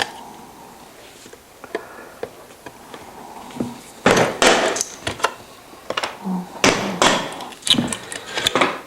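A chisel cuts away wood in a workshop, giving sharp irregular knocks and scraping strikes, sparse and soft at first, then louder and more frequent in quick clusters, close and without talk.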